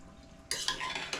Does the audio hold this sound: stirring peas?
yes